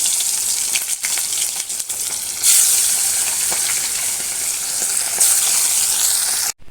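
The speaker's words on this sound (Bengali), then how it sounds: "এই যে তেল গরম হয়ে গেছে, আমি একে একে মাছগুলো ছেড়ে দিচ্ছি।" Small fresh fish are dropped one by one into hot oil, setting off a loud, steady sizzle with brief surges of crackling as each piece hits the pan.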